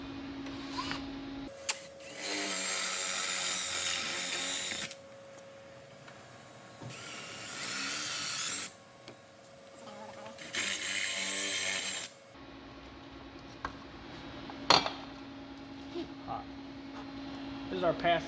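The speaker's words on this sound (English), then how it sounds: "I'm going to drill out these rivets." A power drill bores out rivets under a car seat during a racing seat install in a Subaru WRX, three sustained whining bursts of a few seconds each separated by pauses, close and loud, with a steady electrical hum between them.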